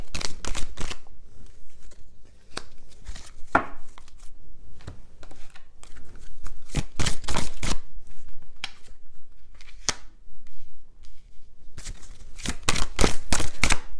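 Tarot-style reading cards are shuffled and drawn, with sharp riffling bursts and papery flicks coming in irregular clusters between quiet gaps, close and moderately loud.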